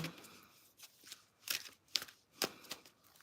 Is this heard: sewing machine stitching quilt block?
no